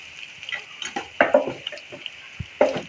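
Garlic-ginger paste and cumin frying in a pan for kadhi tadka make a quiet sizzle under scattered stirring clicks and a few sharp utensil knocks against the pan.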